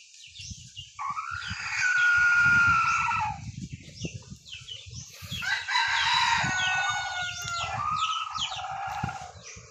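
Red junglefowl (labuyo) rooster crowing loudly and near in two long calls, with clucking and scratchy rustling underneath and no talk.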